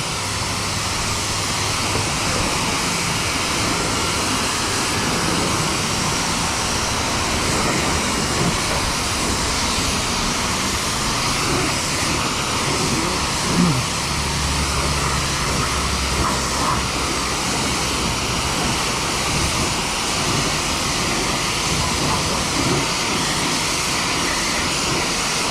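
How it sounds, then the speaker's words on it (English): Pressure washer spraying water on a 2003 Honda S2000, a continuous loud hiss with a steady motor drone underneath, holding unbroken from start to finish. "When you're using this high pressure tip, you want to be very careful around these seals"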